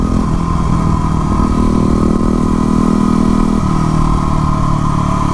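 A Yamaha WR250R motorcycle in supermoto trim runs loud and close, its single-cylinder engine holding a steady rough idle with slight shifts in pitch throughout and no voices.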